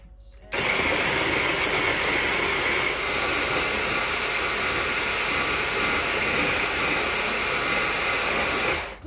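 A kitchen blender blends ginger with water in one steady, loud whirring drone that keeps going for about eight seconds and then stops, with no talking over it.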